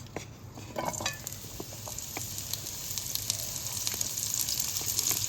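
Purple cabbage tossed into hot oil in a pan gives a steady, close frying hiss that builds slightly over time, with occasional stirring scrapes and clinks.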